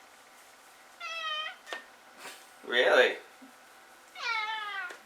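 A house cat meows several times, drawn-out mewing calls with a brief sound between them, close and clear, while a person talks quietly nearby.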